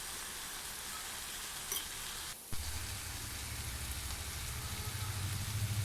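Bitter gourd fries in a pan with turmeric, chili and coriander powders, a soft steady sizzle with light stirring that grows slightly toward the end, heard fairly quietly with no talking.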